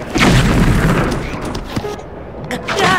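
A deep explosion from The Legend of Zelda: Breath of the Wild on the Nintendo Switch: a loud booming blast right at the start that rumbles and fades over a few seconds, with a voice talking over it.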